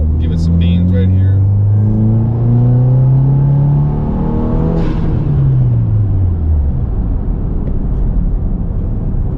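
A 2022 Subaru WRX with an ETS exhaust, ETS intake, charge pipe and top-mount intercooler pulls hard under acceleration, its loud, close engine note climbing through the revs, dipping briefly at a gear change, then rising again.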